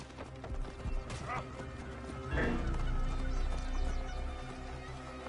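Horse hooves in the ancient Egyptian setting of Assassin's Creed Origins, a rolling clip-clop of galloping that grows louder partway through, with a brief whinny and game ambience layered over a steady low background.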